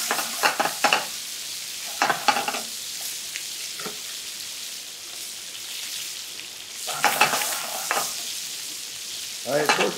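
Chicken sears in butter over high heat, a constant close sizzle with bursts of louder scraping and stirring at the start, around two seconds, and again near the end.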